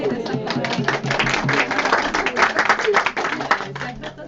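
Dense applause from an audience at a spiritual talk, many hands clapping together for several seconds with a voice partly heard under it.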